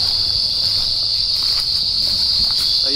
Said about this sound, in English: So you can definitely hear some striped marsh frogs.